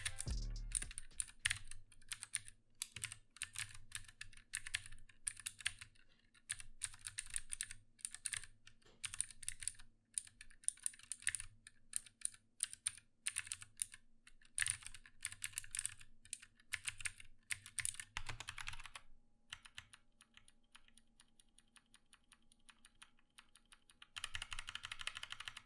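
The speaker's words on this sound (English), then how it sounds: "I myself have the ANPRO 2 in Kale Brown switches and my Ducky One 2 Mini in Cherry Blues, so here's a sound test for them both" Typing on two 60% mechanical keyboards, an Anne Pro 2 with Kailh Brown switches and a Ducky One 2 Mini with Cherry Blue switches, dense rapid key clacks in fast bursts with brief pauses, close and clear.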